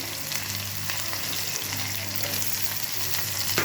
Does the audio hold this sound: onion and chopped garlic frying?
yes